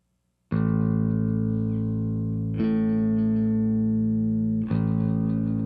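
Three sustained bass guitar notes ring out, each struck and held, with a short roomy reverb adding a slight spacious bloom.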